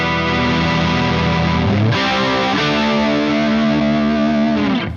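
An electric guitar played through an Electro-Harmonix MIG-50 amp with a Bassman/Plexi-style voice rings out in sustained, loud, overdriven chords, changing chord about halfway, with no talking.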